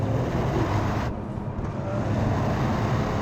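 Toyota Yaris engine with a small, snarling note, heard from inside the car while driving as a steady, fairly loud low rumble with road noise, dipping briefly for a moment midway.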